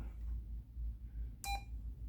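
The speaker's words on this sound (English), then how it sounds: "Then you've got your key beep." A single short electronic key beep from a President Richard 10-meter radio sounds sharply after a quiet stretch of low hum, clean and close.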